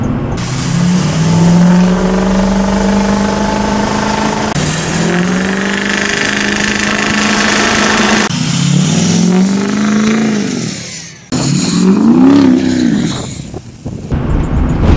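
Truck exhaust revs hard and loud with a 7-inch tip fitted behind the passenger rear wheel, several rising and falling engine sweeps in close succession with a brief drop before a final strong rev.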